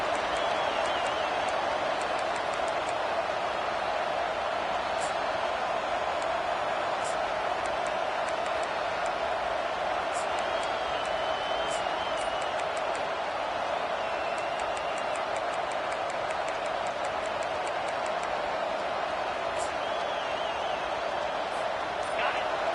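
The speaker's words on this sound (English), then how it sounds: "Listen to this crowd just shaking the girders of this place, trying to help their defense." A dense, steady roar of a large stadium crowd cheering continuously at a college football game, loud and sustained without letup.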